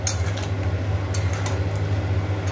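Fish curry masala being stir-fried in a pan, with a soft, continuous clatter of the pan and utensil over a steady low hum, close and moderately loud.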